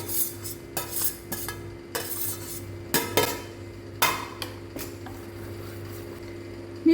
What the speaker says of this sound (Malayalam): നമുക്ക് ദോശമാവിലേക്ക് മിക്സ് ചെയ്ത് കൊടുക്കാം